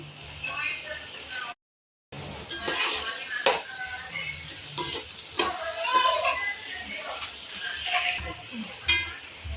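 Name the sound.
frying green chillies and onion in hot masala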